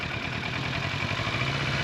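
A motorcycle engine idles steadily, a continuous mid-pitched throb with a faint clatter, close and even in level for the whole stretch.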